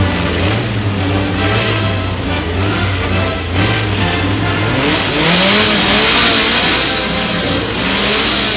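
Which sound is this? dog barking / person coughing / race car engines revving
race car engines revving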